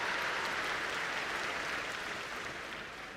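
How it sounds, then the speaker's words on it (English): A round of applause from the audience at an EDHEC celebration, dense steady clapping that fills the room, then slowly thins and fades toward the end. "a round of applause"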